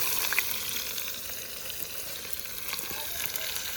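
Onion fries in a pan over a wood-fired chulha while cooking Aagri-style mundi, a soft, steady sizzle with scattered light crackles and scraping stirs, fairly quiet and without voices.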